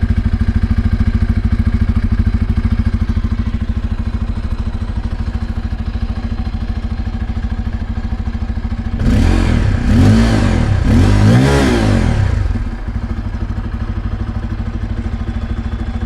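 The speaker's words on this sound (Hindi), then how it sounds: "आपको सुनाई देगा काफ़ी अच्छे से आपका एग्जॉस्ट नोट" A 2024 Bajaj Pulsar N250 motorcycle exhaust burbling steadily at idle, loud and close, with a few quick throttle blips swelling the sound before it settles back.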